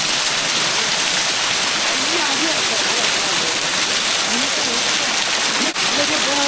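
Ayyanar waterfall roars in a dense, constant wash of falling water, loud and close, with voices talking faintly beneath it.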